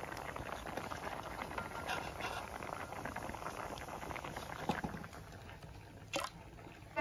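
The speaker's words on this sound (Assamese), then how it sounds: "কেৰাহীত পানী উতলিল" Water boiling in a wok on a kitchen stove, a soft continuous bubbling and crackling patter heard close and steady throughout, with no voices.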